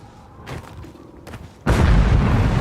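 An explosion in the video game Dying Light: The Beast hits with a sudden loud, deep boom and sustains a rumbling roar after some quieter earlier thuds.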